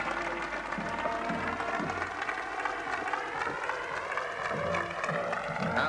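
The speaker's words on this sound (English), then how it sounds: "After the applause came the reality." A large crowd applauds steadily after a US presidential oath of office, a broad, even wash of clapping that stays constant throughout, with a faint voice low beneath it.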